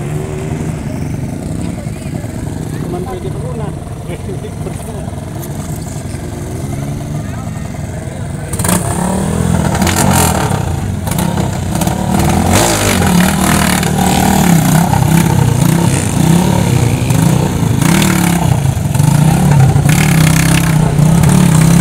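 Motorcycle engine revving in a crowd at a street fiesta where motorbikes are being handled with a backhoe, loud and sustained, growing louder after the first few seconds, with voices talking throughout.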